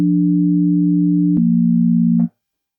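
Default patch of the Meld synthesizer in Ableton Live 12, a plain steady sine-like tone held for about two seconds, stepping slightly lower in pitch midway before cutting off cleanly, with no other sounds.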